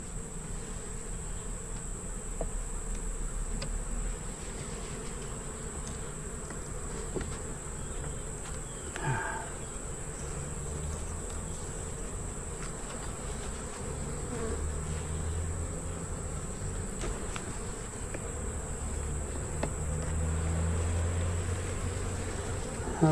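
Honeybees hum in a steady, dense drone around an open hive during an inspection. The buzzing is continuous and close, with no talking.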